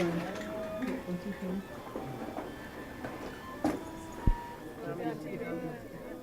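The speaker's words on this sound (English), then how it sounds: "So the library's 3D printer at work." 3D printer working in a public library's 3D printing lab, its stepper motors giving off shifting tonal whines and buzzes with occasional ticks, under steady background chatter from people in the room.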